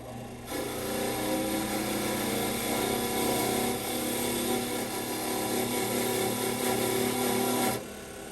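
Rusty bolts get a wire brushing, a continuous loud rasping scrub that starts abruptly, runs steadily for several seconds with no talk, then cuts off.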